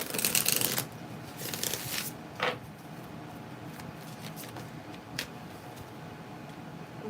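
Tarot cards are shuffled close by in quiet surroundings: a dense riffling burst at the start, then softer scattered flicks and short card snaps spread over several seconds.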